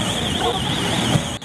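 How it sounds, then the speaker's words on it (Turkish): A shop's burglar alarm going off, a loud steady electronic wail that wavers up and down in pitch, continuous and close, ending with a sharp click near the end. "İş yerinin alarmı çaldı"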